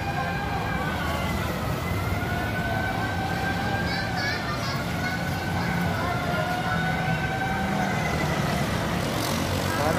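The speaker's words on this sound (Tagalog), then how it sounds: "May ambulansya na lang." An ambulance siren wails faintly through dense, steady noise at a house fire in Mandaluyong, with voices and general commotion around it.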